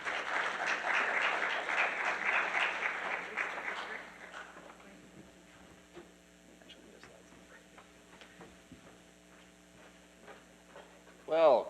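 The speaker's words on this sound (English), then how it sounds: "Round of applause." Audience applause for a keynote speaker at a U.S. Chamber of Commerce tech summit in Austin, a dense burst of clapping that tapers off after about four seconds into scattered claps, room hum and faint movement.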